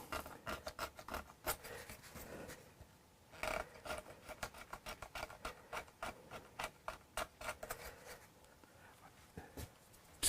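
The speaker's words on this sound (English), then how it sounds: "This is a belt buckle with a built-in scraper." A belt-buckle scraper is dragged over the nitro finish of a Gibson Les Paul guitar to age it, giving repeated close, dry rasping strokes in uneven bursts with short pauses between them.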